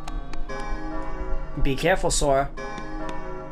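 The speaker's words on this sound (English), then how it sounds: "The bell!" A bell in Kingdom Hearts Chain of Memories chimes over a sustained tonal game soundtrack, with a brief spoken line heard in the middle.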